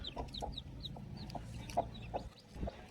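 A hen clucks in short, repeated low calls near her chicks, whose high thin peeps sound at regular intervals, close by and without talking.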